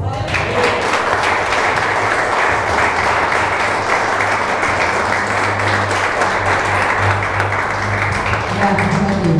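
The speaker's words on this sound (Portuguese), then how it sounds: "E as palmas aí" Sustained applause from a church congregation runs steadily throughout at a fairly loud level. Voices and a low hum or music sit underneath it.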